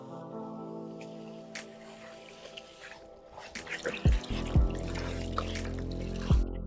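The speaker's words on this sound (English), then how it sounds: "Rinsing out the shampoo, you want to make sure that you get all the shampoo from your hair." Water runs and trickles while shampoo is rinsed out of 4b/c hair, a soft continuous flow with a few sharper splashes and drips toward the end.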